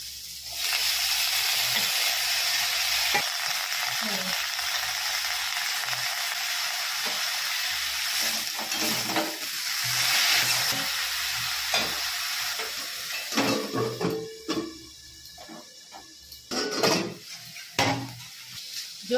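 Pumpkin greens hit hot oil cooked down with green chilli paste and a little sugar, sizzling steadily while a utensil scrapes and stirs against the pan, close and continuous with occasional clinks.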